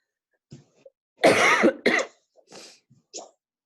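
Someone coughs several times in short bursts, with a couple of heavier coughs followed by smaller throat-clearing sounds, close and otherwise quiet.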